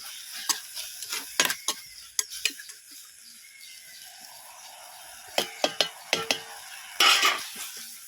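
Masala powder stirred and fried in a pan for a Malabar-style chicken dish, with a utensil scraping and clinking against the pan in irregular near bursts over a faint sizzle.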